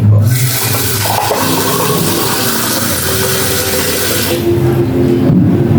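Tap water running loudly and steadily into a basin while rice is being washed, a continuous close splashing rush that holds for several seconds.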